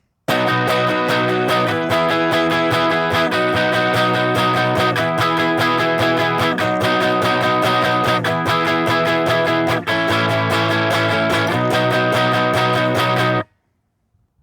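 A distorted electric guitar strums a steady chord progression, changing chords every couple of seconds, loud and continuous before stopping abruptly.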